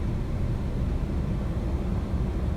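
A simulated MD-11F airliner in X-Plane 11 gives a steady, low, broadband engine rumble that holds evenly throughout, with no voices over it.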